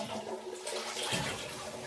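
A toilet flushes in a bathroom, a brief rushing, gurgling surge of water that swells and then drains away, fairly close and with no voices.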